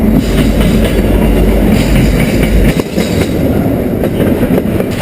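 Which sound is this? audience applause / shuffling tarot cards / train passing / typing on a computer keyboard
train passing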